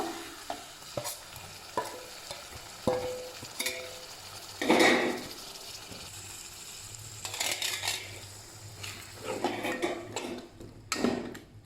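Cumin, garam masala and ginger-garlic paste go into a pan of frying onions for a beef and potato dish, giving soft sizzling under repeated spoon scrapes and clinks against the pot, with no talking.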